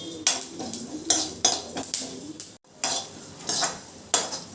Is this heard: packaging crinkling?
no